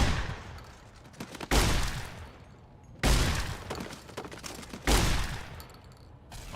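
Gunfire in the video game Fallout New Vegas: three loud, sharp blasts roughly a second and a half apart, each followed by a rumbling decay, with no talking.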